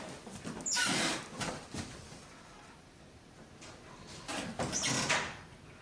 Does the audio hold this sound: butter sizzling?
no